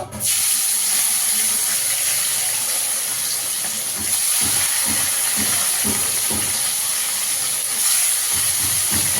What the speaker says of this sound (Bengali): কড়াইতে তেল দিয়েছি, তেলটা গরম হয়ে গেছে। এবার মাছটাকে ভেজে নেব।